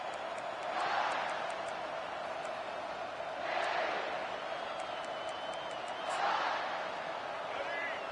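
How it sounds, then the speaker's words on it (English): A football stadium crowd roars with a constant distant wash of noise that swells in waves every few seconds. It sounds faint and far off. "They challenge this crowd to bring the energy, and I'd say they're doing that."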